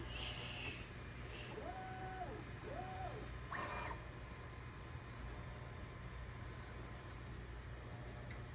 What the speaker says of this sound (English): All right, it's gonna heat up. Filment's gonna move.